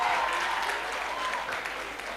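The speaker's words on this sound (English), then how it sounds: "Another round of applause for Hans Era" Applause from an audience at the Media Challenge Expo 2022 runs steadily throughout as a broad, even wash of clapping, with a voice carrying faintly over it.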